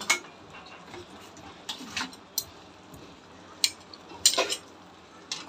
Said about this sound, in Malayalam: ഇപ്പം ഞങ്ങൾ ഇത് നന്നായിട്ട് മിക്സ് ചെയ്യും